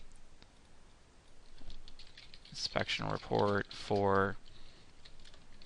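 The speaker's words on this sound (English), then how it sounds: "I'll just type it in the title here" Computer keyboard typing a ticket title into ticketing software, delivered as a light burst of quick key taps near the start, then someone talking over and after the clicking.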